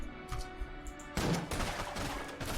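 Bursts of rapid weapon fire from the pulse cannon in the video game Enter the Gungeon, scattered short shots at first and then a dense, louder volley, heard at low level.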